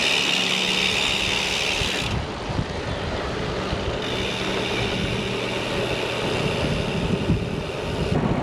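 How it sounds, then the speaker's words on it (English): Bicycle tires roll over pavement on a touring ride in Quebec, a steady, close, continuous hiss and rumble that barely changes, mixed with wind rush and no talking. "you can hear your tires over the pavement"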